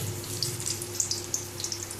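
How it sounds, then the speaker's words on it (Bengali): Battered chicken satay fries in hot oil, a steady close sizzle with small crackling pops scattered across it and no talk. "ওদেরটা ভাজছে"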